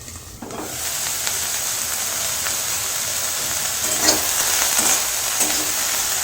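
Paneer and bottle gourd frying in a pan for a Bengali no-onion, no-garlic vegetarian dish, giving a steady close sizzle and hiss with a few soft scraping stirs of a spatula.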